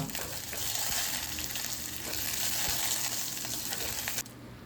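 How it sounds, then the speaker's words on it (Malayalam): Mustard seeds, dried chillies and curry leaves frying in hot coconut oil give a steady, loud, close sizzle and crackle, with faint stirring, that drops away abruptly near the end. "വെളിച്ചെണ്ണ ചൂടായ ശേഷം കടുക് അതിട്ടു പിന്നെ വറ്റൽമുളകും കറിവേപ്പിലയും അത് ഇട്ടിട്ട് നന്നാക്കി ഒന്ന് വഴറ്റിയെടുക്കണം"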